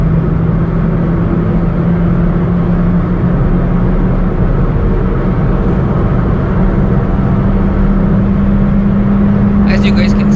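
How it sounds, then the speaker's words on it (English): A 2009 Honda City sedan cruises at high speed, above 120, with a steady loud roar of engine, tires and wind filling the cabin, a low hum holding throughout and a brief rattle near the end. "we're now cornering at above 120 and the car is stable"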